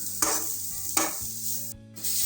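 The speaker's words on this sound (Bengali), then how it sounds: "তারপরে চিনিটা পুরোপুরি গাজরের সাথে মিশিয়ে মিশিয়ে দেবেন একদম" Grated carrots being stirred with sugar in a pan for carrot halwa, with a few scraping strokes of the spoon over a soft background sizzle and a low steady hum.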